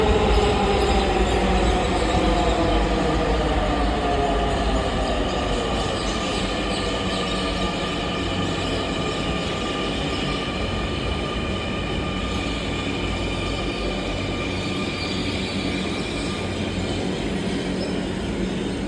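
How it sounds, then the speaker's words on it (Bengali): A Dhaka metro train pulls into a station with a loud, steady rumble of wheels on rails and a faint squeal running throughout, with no voices over it. "এই যে আমাদের ট্রেন চলে আসছে দেখো"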